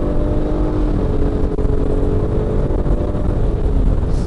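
A Nissan Pathfinder 3.5, weighing 2.1 tonnes, accelerates as it downshifts, its engine giving a steady loud droning hum heard from inside the cabin without any talk.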